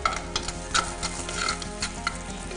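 Couscous ingredients fry and get stirred in a pot, a steady sizzle under a low hum, with sharp scraping clicks of the spoon scattered through.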